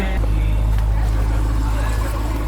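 A Jeep Trackhawk or Toyota Tundra engine runs close by on a rainy day, a loud, low, steady rumble that fills the short stretch.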